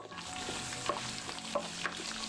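Fennel seeds, curry leaves and green chillies fry in oil in a pan with a soft, steady sizzle, broken by a few faint stirring scrapes; quiet and close, with no talking.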